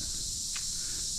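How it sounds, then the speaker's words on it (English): Crickets at Wat Doi Kong Mu in Mae Hong Son give a dense, continuous high chirring that fills the whole stretch, steady and fairly loud with no talk. "Here the crickets."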